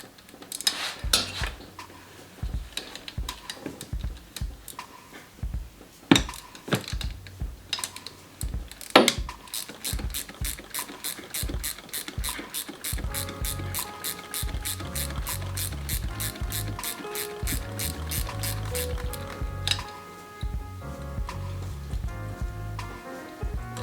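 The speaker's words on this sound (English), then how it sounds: "I'm gonna go ahead and I'm gonna unbolt the turbo now" Rapid ratchet clicking from loosening the 12 millimeter bolts on an IS38 turbo during an EQT turbo swap, starting with scattered single clicks and then settling into a long steady run of close, loud clicks.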